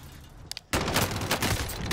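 Submachine gun fire from Call of Duty Warzone: two short shots, then a loud, sustained burst of rapid gunfire rattling steadily to the end.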